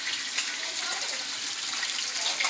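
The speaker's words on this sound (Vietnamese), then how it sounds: "Cá chê vàng mình chiên nè." Fish frying in a pan gives a continuous bright, crackling sizzle, close and even throughout with no pauses.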